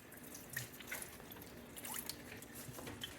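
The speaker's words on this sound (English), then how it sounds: "So you just want to drain your beans" Water drips and trickles as pinto beans are drained, a faint, close patter of small irregular drops and light splashes over a quiet background, with no talking.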